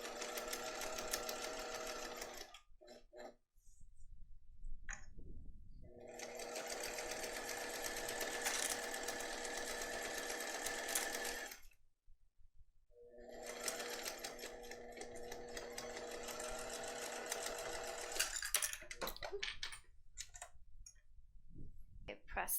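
A home sewing machine stitches a case lining in long, steady buzzing runs with rapid clicking, stopping twice for short pauses in between, near and clear.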